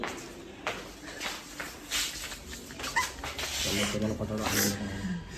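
A dog whimpers and yips softly in brief bursts, with some shuffling movement nearby and faint background sound.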